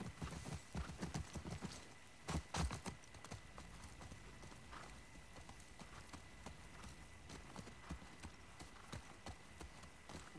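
Horse hooves clip-clop steadily across a trail in The Last of Us Part II, a close, even rhythm running the whole time with a brief louder cluster of footfalls early on and faint ambient texture behind.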